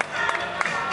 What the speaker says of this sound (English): Let's give the kids a round of applause.